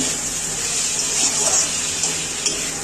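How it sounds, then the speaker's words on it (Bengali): Water poured into a pan of curry with fried potol, potato and paneer, a steady hissing, splashing pour that runs continuously and fairly close, with no talk over it. "সামান্য একটু জল দিয়ে দিলাম।"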